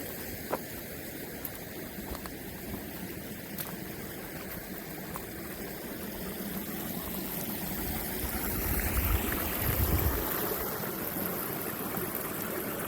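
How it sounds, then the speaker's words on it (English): Waterfall at Tohickon Valley Park tumbling over a rock outcrop, a steady broadband rushing wash heard from a distance, swelling louder toward the end of the clip. "And I do believe we have a waterfall."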